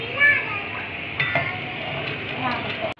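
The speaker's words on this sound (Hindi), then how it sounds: "ओ भाई पूरा डाल दिया, अब हम इसको करेंगे मिक्स" Two packs of Maggi noodles being stirred in a pan, close scraping and clinking of a utensil against the metal over a soft sizzle, ending in a sharp knock.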